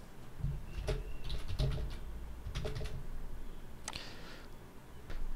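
Keys on a computer keyboard being typed in Notepad, a few quiet irregular clusters of clicks spread over several seconds against faint background hum.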